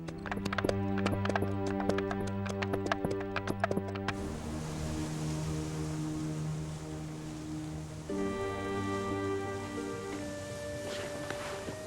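Cartoon horse hooves clip-clop in a steady rhythmic trot over a musical score, the beat dropping away partway through as the music carries on alone.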